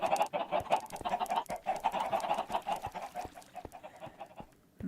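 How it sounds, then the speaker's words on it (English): A flock of chickens on a Minecraft chicken farm clucks constantly in dense, overlapping bursts, loud and close, tapering slightly toward the end with no talking. "Oh God, those noisy chickens."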